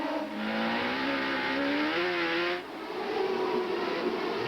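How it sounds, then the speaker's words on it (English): CART race cars at the 1997 Detroit race, engines screaming loud and near, with rising and falling pitch as rear tires scramble for grip, a continuous roaring wash of motor noise. "Here Michael Andretti's rear tires scrambling for grip"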